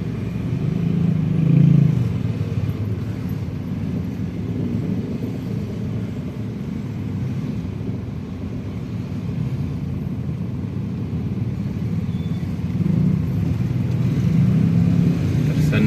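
Steady low rumble of congested road traffic at a Jakarta intersection, cars and motorcycles idling and creeping, with a continuous dense engine drone and occasional swells as vehicles rev nearby.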